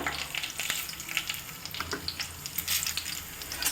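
Mustard seeds and cumin frying in hot oil give a close, busy crackle of small pops and sizzles that runs continuously with no talking.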